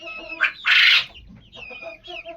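Chickens and chicks in farm cages give a few short clucks and squawks, with one louder burst in the middle, heard up close with no talk over them.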